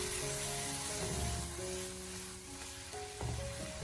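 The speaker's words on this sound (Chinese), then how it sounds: "最后再继续的开大火，给它快速的翻炒一下，将所有的食材给它炒出锅气，炒出香味" Green peas and minced pork are stir-fried over high heat, giving a loud, even sizzle with occasional scraping and clanks of a spatula against the wok, and no voices.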